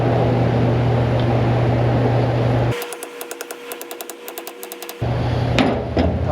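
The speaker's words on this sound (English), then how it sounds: "Now this I just hammer in flush with the edge of the flange on the tube." A quick run of light, rapid metallic taps, a dozen or so close together, as a seal is hammered flush with a tube flange, set between stretches of steady machine hum.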